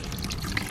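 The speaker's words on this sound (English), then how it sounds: "Running water achieved." Trickle of running water in a scene about a written-off Ford Fiesta ST, a brief close splashing, gurgling flow with no voices.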